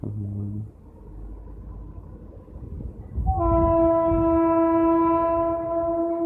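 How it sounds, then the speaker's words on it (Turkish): A loud train horn sounds one long sustained blast after a low rumble of passing rail cars, close by with no talking, from TCDD locomotive D 22 029 on the Toros Express departing Niğde toward Adana. "Teşekkür ederim şefim korna selamı için."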